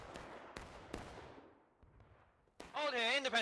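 Scattered Civil War musket shots ring out at Bloody Lane in War of Rights, several sharp cracks at irregular intervals echoing away, then a harmonica starts playing loudly over them.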